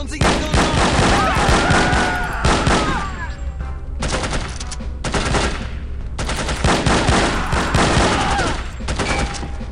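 Bursts of automatic gunfire in the spy shooter No One Lives Forever, rattling in dense volleys with short lulls between them, loud and close throughout.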